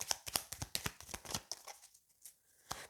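Tarot cards are shuffled and drawn by hand in a quick run of crisp, close riffling snaps, then a short pause and a single final card flick.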